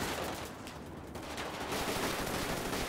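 Sustained gunfire in a GTA 5 roleplay session during a purge event, a dense continuous burst of rapid shots filling the whole stretch at steady loudness with no talking.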